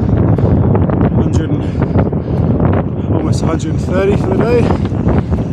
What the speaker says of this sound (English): As you can see, big headwind.